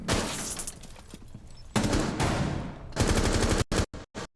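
Video game gunfire in a ranked shooter match: loud, close bursts of rapid automatic fire broken by short pauses, ending in several sharp, clipped shots, with no talking.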